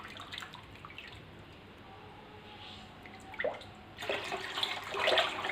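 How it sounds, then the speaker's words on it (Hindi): Water runs and splashes into a cooking pot while Punjabi-style pakora kadhi is being prepared, a soft steady trickle that swells into a louder, brighter pour near the end. "मैं शामिल कर दूँगी खुला पानी।"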